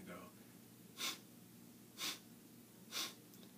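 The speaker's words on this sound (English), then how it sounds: "First breathing exercise we're going to do is called the quick out-breath." A person does a quick out-breath breathing exercise, pushing three sharp, evenly spaced exhales about a second apart, close and clear over a quiet background hum.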